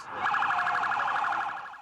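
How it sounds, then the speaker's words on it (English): A rapid warbling emergency vehicle siren pulses steadily in New York City in September 2001, a fast electronic yelp that holds loud and even without any voices. "A city of sirens"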